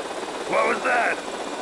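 An RC helicopter in the video game GTA Vice City gives a buzzing, droning rotor and engine sound that swells twice over steady background noise.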